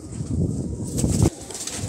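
A kept pigeon of an old breed, shown by its keeper, makes a brief close burst of wing flapping and rustling that stops sharply, with quieter bird sounds after it.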